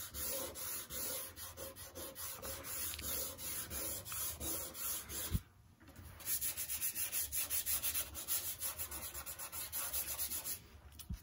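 Pastel stick rubbed across paper while working a landscape, a steady close scratchy sanding-like stroke running continuously with a brief pause midway before resuming.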